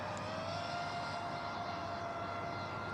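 A 5-inch FPV drone flies overhead with a steady, droning motor buzz. The sound is continuous and fairly faint throughout, and no one speaks.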